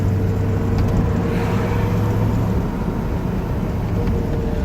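A 1964 Corvette rolls along at low speed, its engine giving a steady, loud low rumble heard from inside the car, with the pitch shifting partway through as it goes into third gear; nobody talks.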